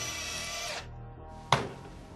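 A Bosch 12V brushless Flexiclick drill whines at high speed close by, cuts off briefly, then restarts with a sharp burst and keeps running.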